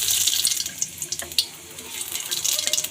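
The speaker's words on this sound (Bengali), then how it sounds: "আর দিয়ে দিলাম জিরা আর তেজপাতা।" Cumin seeds and bay leaves hit hot oil in a pan while lentils are cooked with cauliflower, producing a close, steady, crackling sizzle with bright hissing pops throughout.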